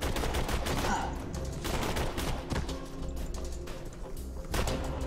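Rapid rifle gunfire in the video game Borderlands 2, dense repeated shots running continuously through a loud, busy game mix.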